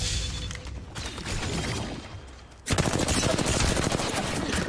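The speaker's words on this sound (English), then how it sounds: "I don't know why these guys are shooting you." Automatic gunfire from the Apex Legends video game rattles in fast bursts, moderate at first, then louder and denser after a short lull, with continuous rapid shots to the end.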